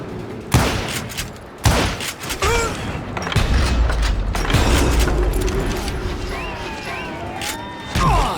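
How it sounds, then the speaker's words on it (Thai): Western gunfights in the Call of Juarez Gunslinger game bring loud, sharp gunshots in irregular volleys, with booming reports, clanking mechanisms and whizzing ricochets crowding the scene. "ใครยิงวะอยู่ด้านหลังอีก"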